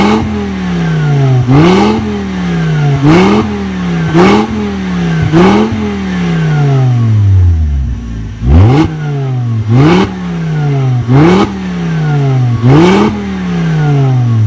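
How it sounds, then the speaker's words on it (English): A loud air-cooled VW Beetle engine fitted with an aftermarket air intake is revved over and over, each rev dropping away with gurgling, crackling pops from the exhaust, close by. "so you guys can hear some gurgle and pops from the exhaust"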